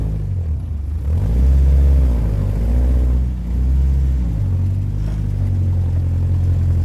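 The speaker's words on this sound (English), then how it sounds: "78 years old and still driving through the mud." A 1942 Willys MB jeep in four-wheel drive churns through mud, its engine giving a loud, close, continuous low rumble that rises and falls slightly as it moves, with no talk.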